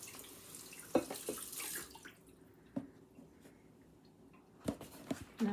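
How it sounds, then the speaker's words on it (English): Tap water runs at a kitchen sink while a wooden drawer box from a vintage dresser is rinsed out, a steady hiss at first, then quieter with a few sharp knocks and splashes. "I'm going to be going behind you to the sink. Kind of rinsing things out."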